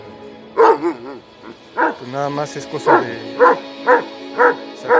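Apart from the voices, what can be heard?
injured female Doberman dog barking and whimpering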